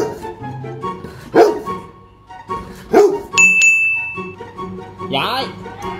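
A Golden Retriever answers a math question with a few separate barks, close and fairly loud. A chime rings out between them and faint talk sits in the background.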